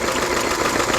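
A vintage vehicle built from a spare Lister stationary engine idles at a classic rally, giving a dense, even mechanical hum with a fast steady chatter, close and continuous, with no talk.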